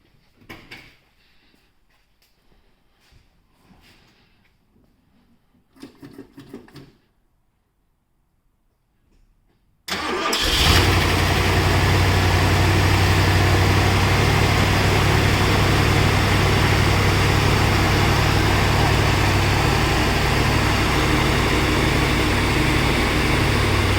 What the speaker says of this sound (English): So we'll go ahead and start her up.